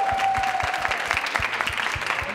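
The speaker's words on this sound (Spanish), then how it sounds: "aplauso, arriba, arriba" Studio audience applauding on a Costa Rican television quiz show, steady dense clapping sustained throughout with a rhythmic low thumping underneath.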